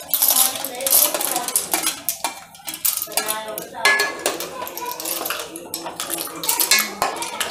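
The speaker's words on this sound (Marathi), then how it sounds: "आता आपण याच्यात तिसऱ्या टाकून घेऊया" Shellfish clams tumble into a metal cooking pan for a clam masala, a dense run of hard clattering and clinking shells against metal, close and loud, continuing steadily throughout.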